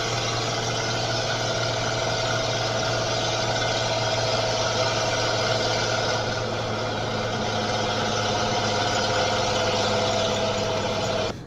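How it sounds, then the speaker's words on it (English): A 1952 Ford F6 tanker truck drives along with its old engine running in a steady, loud, continuous drone and rumble from start to finish, with no voices. "this truck is driving almost like brand new"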